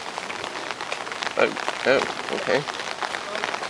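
Rain falls steadily at the Imperial Palace East Gardens in Tokyo, a close, even hiss of drops on surfaces, with a voice speaking briefly in short bursts over the patter.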